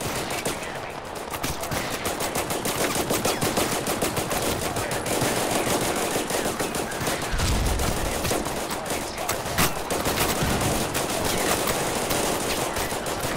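Dense, continuous gunfire fills a Total Conflict: Resistance battle, with rapid machine-gun bursts and overlapping shots rattling nonstop at a steady, moderately loud level and a heavier thud or two mid-way.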